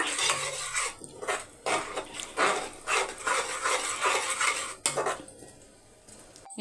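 Cornflour slurry being stirred into sauce in a pan, repeated metal spoon scrapes and clinks against the pan in uneven bursts, with a brief dog-like yelp near the end.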